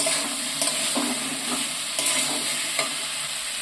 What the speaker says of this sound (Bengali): এইবার আমি মশলাটা আর আলু মশলা একসাথে আবারও কষিয়ে নিচ্ছি